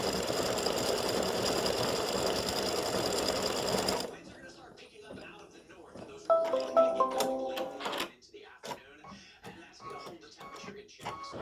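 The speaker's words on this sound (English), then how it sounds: "it's stitching the gold balls on the ends of the jester hat" An embroidery machine stitches gold balls onto the tips of a jester hat design, humming steadily for about four seconds before stopping. Then come quieter handling noises, clicks and a person talking.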